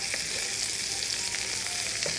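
A dough pouch frying in oil in a pan, a steady close sizzle and crackle filling the whole stretch with no voices.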